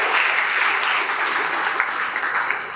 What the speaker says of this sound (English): shall we give a big round of applause to Vinith?